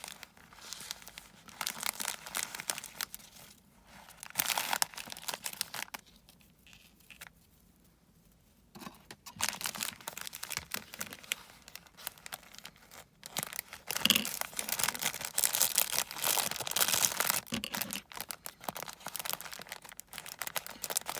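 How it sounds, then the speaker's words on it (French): Close crinkling and tearing of a taped, wrapped package being opened, in bursts of rustling and ripping with a brief quiet pause partway through, and no one speaking. "Alors on va ouvrir le premier paquet."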